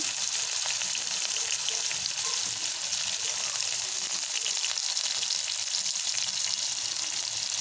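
Onions and green chillies sizzle steadily in hot oil in a pan for a tomato curry, a continuous close frying hiss with no talking.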